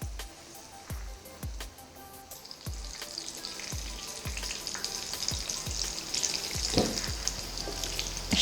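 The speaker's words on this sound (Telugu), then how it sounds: "ఇప్పుడు వీటిని డీప్ ఫ్రై చేసుకుందాం" Egg fingers deep frying in oil over a medium flame, a bubbling hiss that builds and grows busier over time, punctuated by regular soft knocks and stirring taps, close by.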